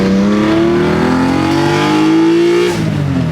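A BMW E90 M3 engine revs hard in second gear, its loud, close note climbing steadily in pitch for nearly three seconds before lifting off at the top, with no one speaking over it.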